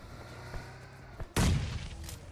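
A single sharp, loud video game sniper rifle gunshot cracks and booms, then decays quickly, following a few faint clicks.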